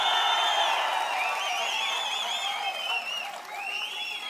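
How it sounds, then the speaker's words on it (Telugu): Crowd at a political rally breaking into sustained applause with scattered cheers and whistles, loud and steady throughout with a slight dip near the end. "గట్టిగా చప్పట్లు కూడా చెప్పండి"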